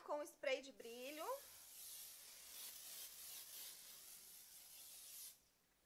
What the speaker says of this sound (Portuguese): eu vou começar com o spray de brilho